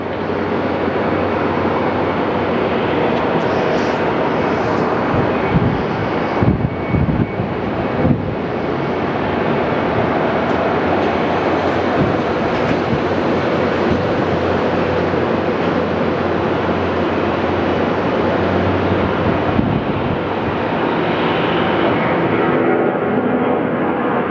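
Steady loud roar of Boeing 757 jet engines running at Phoenix airport, a broad continuous rushing drone with slight fluctuations, heard from nearby for a long stretch.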